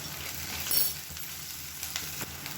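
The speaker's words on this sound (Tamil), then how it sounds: "வெங்காயம் பூண்டு நல்லா வதங்கிடுச்சு" Chopped onions and five or six cloves of finely cut garlic, salted, sauté in a pan for a lunch dish. They give a steady, soft sizzle with a few light clinks and stirring scrapes, and no voices.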